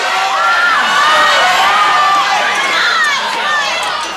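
Crowd at an MIT student design competition cheers and whoops loudly and steadily, with children's shouts and excited yells blending into a continuous roar.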